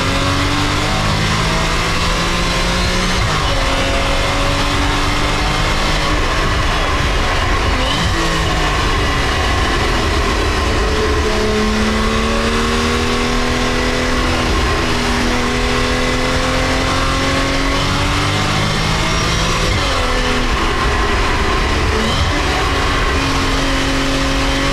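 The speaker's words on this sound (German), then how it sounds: "das ist Porsche Sound" A Porsche Cayman 981 with the 2.7 engine and PDK gearbox drives hard, its six-cylinder note rising and falling through repeated revving gear changes, loud and continuous from start to finish.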